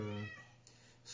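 A cat meows indoors, a short tonal call near the start that fades under soft, quiet background sound.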